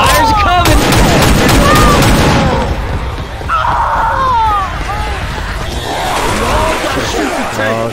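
Rapid bursts of gunfire ring out in Left 4 Dead 2 as survivors shoot at zombies, loud and dense through the opening seconds, then turning into scattered shots amid chaotic game noise.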